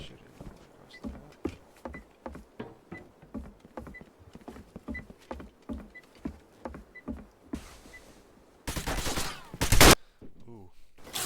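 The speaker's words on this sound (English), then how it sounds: "Teammates shooting across the map." Teammates fire weapons across the map in Rainbow Six Siege, a long run of evenly spaced distant shots and short bursts, closing with a louder sustained volley of gunfire.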